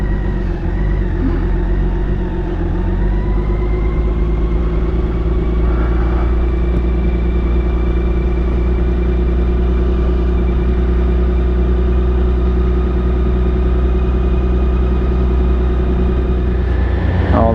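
A BMW K1600B GA motorcycle engine idles steadily while warming up, a constant close, smooth hum with no revving, heard alone.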